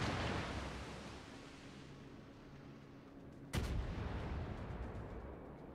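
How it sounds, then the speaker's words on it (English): Warship artillery volleys in World of Warships: a deep rumbling roar fades slowly, then one sharp, loud gun blast cracks out and is followed by a lingering low boom and a rolling tail. "He literally fired every single volley in the same time."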